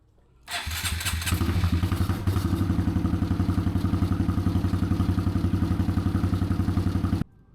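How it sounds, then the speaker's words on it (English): A Honda Grom motorcycle starts after an oil change and settles into a steady, close, loud idle with a rapid even putter, then cuts off abruptly. "then you can go ahead and run your bike and then let it settle once it's done"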